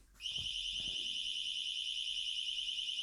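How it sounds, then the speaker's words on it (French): Alarm on a XENA XX15 Bluetooth disc-lock fitted to a motorcycle, set off by someone touching the bike. It starts after a brief knock and then holds a loud, steady, piercing high-pitched electronic tone with no break. "quelqu'un a touché ma moto, par exemple, et l'alarme, elle se met en route"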